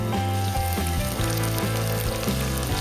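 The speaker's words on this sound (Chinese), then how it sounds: "我们先炒一下" Minced ginger and chopped scallions stir-fried in a hot pan give a loud, continuous sizzle, with music playing over it and no talking.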